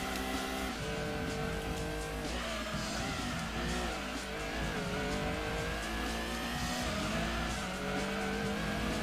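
Race cars roar continuously in Gran Turismo 2 during a Grand Touring Car Trophy event, a Mazda Protege among them, with loud engine drone, shifting pitch sweeps and tire squeal throughout, no talk.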